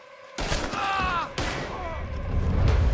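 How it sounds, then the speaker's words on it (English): Two loud, abrupt gunshots ring out in a Red Dead Redemption 2 shootout, spaced about a second apart with reverberant tails, while someone shouts in between and a low rumble builds toward the end. "Looks like we're shooting our way out of here, fellas!"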